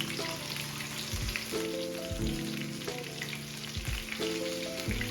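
Food crackles and sizzles steadily in hot oil, a dense continuous hiss, with occasional clinks of a utensil and low background music underneath.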